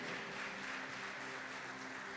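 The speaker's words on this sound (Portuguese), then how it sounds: "Você pode aplaudir o Senhor, meu querido?" A church congregation applauds during a Portuguese-language worship service, a steady, soft wash of clapping from many hands that holds evenly throughout and sounds somewhat distant.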